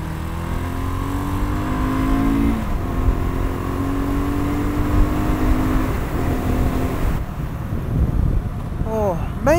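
A BSA Gold Star motorcycle engine-brakes along a wet country road, its single-cylinder note falling in pitch through several steady descending runs, close and loud under wind rush, with a brief voice near the end.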